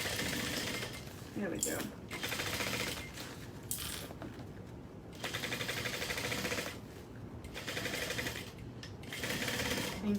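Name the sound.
sewing machine back stitching a bag handle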